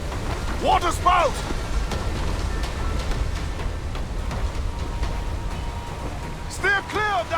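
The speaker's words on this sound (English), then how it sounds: "Water spout!" A raging storm at sea with a waterspout in Assassin's Creed IV: Black Flag: a constant roar of heavy rain and wind over a low rumble, with brief wavering cries rising above it near the start and the end.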